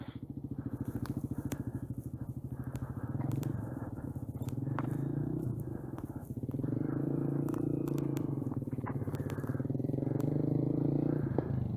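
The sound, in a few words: motorcycle pulling away in first gear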